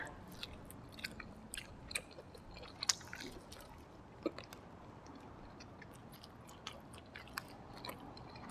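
Close, faint chewing of grilled pork eaten with sticky rice, soft moist mouth sounds broken by occasional sharper crunchy bites, with no talking.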